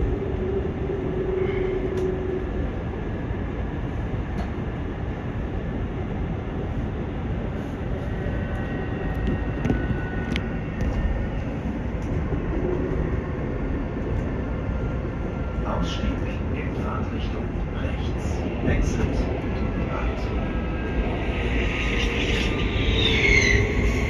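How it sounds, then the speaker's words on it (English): A train rumbles steadily past close by at Berlin's Friedrichstrasse station, a broad continuous roar with faint squeals and clanks, while people talk over it. "there is a train in front of us which is passing by"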